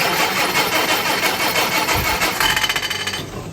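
Small Crosley car engine cranking and trying to start, a rapid churning stutter that catches briefly, ending with a few uneven chugs, close and loud with no talking.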